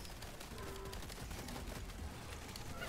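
Rapid gunfire and explosive blasts from a team shooter video game, dense and continuous across the whole stretch with no talking over it.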